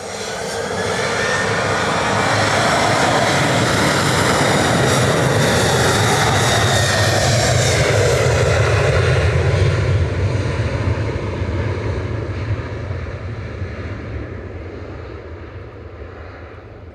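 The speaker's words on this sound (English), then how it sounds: "Ryanair departing to Prague now," A Ryanair jet departs Manchester for Prague as flight 6840, loud and sustained engine roar holding steady for most of the stretch before slowly tapering off, no talking.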